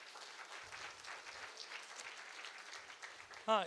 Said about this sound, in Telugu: ఒకసారి మేడం ఒకసారి జోరు క్లాప్స్